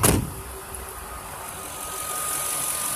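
The engine of a 2007 Lincoln Mark LT pickup idles with a steady low hum and a faint high whine, after a brief loud burst at the start.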